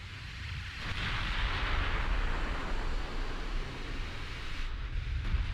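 Heavy naval shell hits land in the warship battle game Ultimate Admiral Dreadnoughts, a deep rumbling boom that swells and sustains for several seconds like a distant explosion rolling over water.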